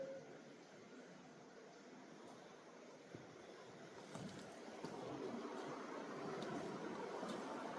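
Steady, low rushing water fills a natural cave in the Pennsylvania mountains, a broad continuous wash that swells slightly louder partway through, with faint echoing texture and no voices.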